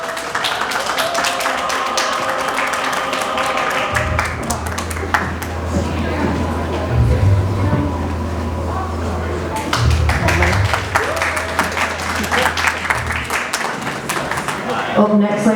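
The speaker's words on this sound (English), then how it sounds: "Give a little bit of applause." Scattered audience clapping at a sci-fi convention bodypaint masquerade in Scarborough, light and uneven taps mixed with crowd noise and a low sustained hum, with a voice speaking over parts of it.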